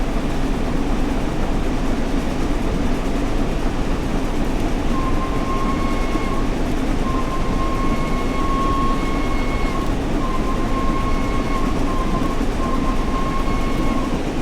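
Flying Scotsman steam locomotive in a railway simulation game running at speed, a steady loud rolling rumble with a sustained high whistle-like tone sounding in several long blasts through the second half.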